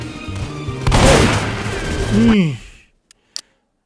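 Shotgun fire in a video game: a heavy, close boom swells and rolls out over a couple of seconds with a voice speaking, then the noise cuts off, leaving two brief sharp clicks.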